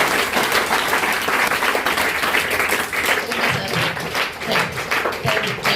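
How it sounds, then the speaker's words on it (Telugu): Dense, sustained applause from a crowd of students and teachers at a school World Meditation Day celebration, loud and even throughout with no break. "అందరూ కూడా మరి క్లాప్స్ ద్వారా అభినందన తెలియదు"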